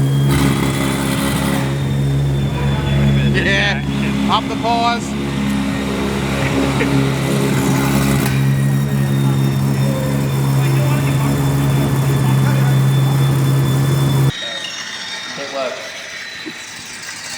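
An RB26 engine swapped into a Nissan S14 Silvia runs loudly close by at its first start, with a strong steady idle and some blips as voices talk over it, then drops away suddenly near the end.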